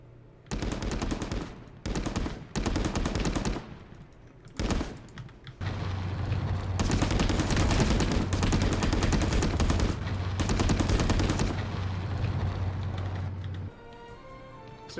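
Suppressive gunfire in the Call To Arms video game: bursts of rapid automatic fire in short volleys, then a long sustained stretch of continuous shooting over a low steady hum, fading to quiet at the end.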